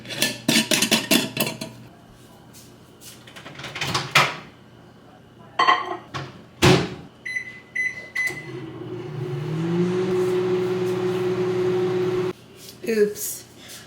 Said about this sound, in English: This one is going to be put in the microwave for 1 minute and 30 seconds.